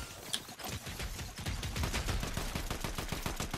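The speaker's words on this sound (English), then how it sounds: "I stopped shooting like a second ago, but my bullet still traveled, I guess" Rapid bursts of gunfire in the Fortnite video game, a dense stream of sharp shots crackling in quick succession at moderate loudness, with no talk over them.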